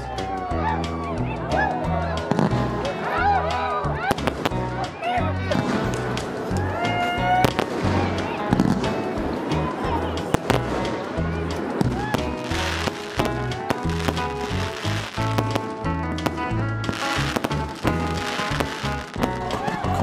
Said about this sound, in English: But the biggest reason everyone was here was the fireworks.